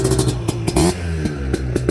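A Yamaha Blaster ATV engine runs poorly and choked down by its airbox lid, its rough, uneven idle broken by sputtering stumbles and a couple of brief blips, close and alone.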